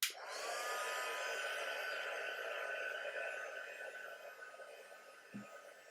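A heat tool blows steadily while melting embossing powder on a craft mat, a close, even whooshing hiss that starts abruptly and continues for several seconds, ending with a faint knock.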